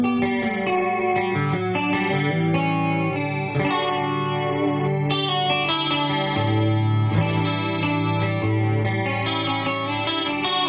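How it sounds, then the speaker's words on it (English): Clean electric guitar played through a Peavey Viper amp on its super clean twin model, with chorus and compression added; steady sustained chords and notes ring out alone, shimmering and even in level throughout. "Here is a super clean sound from the Viper series. It's a twin model, along with some chorus and compression."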